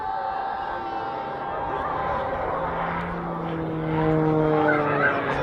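A Pilatus PC-9A turboprop trainer flies a tight descending turn pulling up to 6G during an air display at RAAF Base Point Cook. Its loud, steady propeller drone slides gradually in pitch and swells toward the end.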